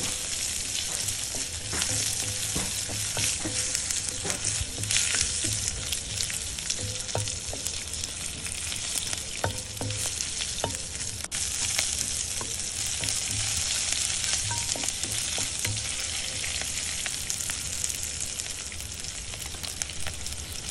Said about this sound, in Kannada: ಇದನ್ನು ನೀಟಾಗಿ ಎಣ್ಣೆ ಒಳಗೆ ಫ್ರೈ ಮಾಡ್ಕೊಳ್ಳೋಣ